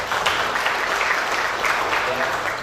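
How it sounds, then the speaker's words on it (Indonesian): A crowd applauds for Jambi at an official gathering, a dense, steady wash of clapping that lasts the whole moment at even loudness. "Tepuk tangan untuk Jambi."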